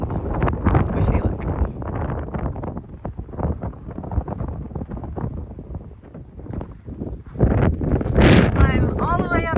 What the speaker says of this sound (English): I'm just gonna walk in the wind